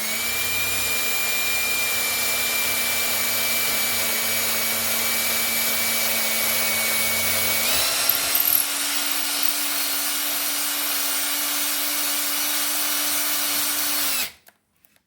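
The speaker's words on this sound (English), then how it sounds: "When you're drilling, make sure you're not drilling into the sink." A power drill bores a hole in a kitchen cabinet near the sink, whirring steadily and loudly, shifting pitch about halfway as the bit bites in, then stopping abruptly with a few small clicks.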